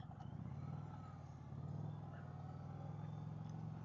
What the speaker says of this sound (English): See, it kind of lags a second sometimes when you rev it up.